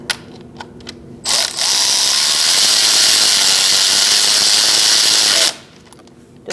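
Power tool running loud and steady for about four seconds while tightening intake manifold bolts on a 2008-2014 Mercedes-Benz C300 3.0L V6, with a few faint clicks and handling noises before and after.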